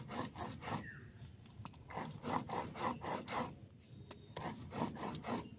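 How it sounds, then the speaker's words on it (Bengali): Mustard seeds are ground by hand into a fine paste for mustard hilsa: rhythmic, gritty rubbing strokes repeat in a steady back-and-forth pattern, quiet and close, with brief pauses. "সরিষা ইলিশ বানানোর জন্য খুব মিহি করে সরিষা বেটে নিতে হবে।"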